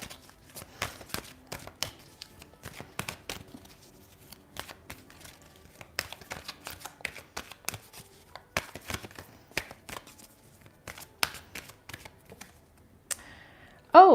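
Oracle cards are shuffled during a tarot reading, with crisp papery riffles and rustles coming in irregular bursts, close and fairly quiet, ending in a brief louder sound.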